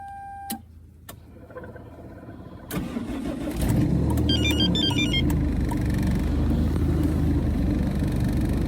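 A car engine starts with a few clicks, then settles into a loud, steady idling rumble after warming up with a Webasto heater, continuing throughout.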